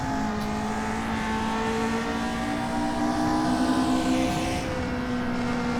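A Lotus 49B race car in the rFactor 2 racing game accelerates, its engine droning steadily with rising harmonic tones, loud and continuous throughout with no talk over it.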